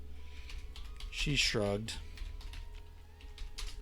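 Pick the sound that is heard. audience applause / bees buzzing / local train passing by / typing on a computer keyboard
typing on a computer keyboard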